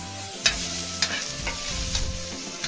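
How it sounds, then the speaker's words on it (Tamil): Chopped tomatoes and onions sauté in a pan for red bean gravy. A steady close sizzle carries repeated scraping stirs of a spoon, with no voices. "தக்காளியும் வெங்காயமும் நல்லா வதக்குங்க,"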